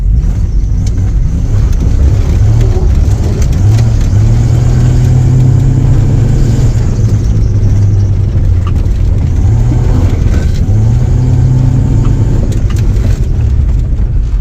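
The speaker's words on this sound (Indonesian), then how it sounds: "iki mau aku ngegas ya" A 1994 Jeep Cherokee Limited with a 4.0 engine revs repeatedly, its loud, close engine rising and falling in several throttle surges.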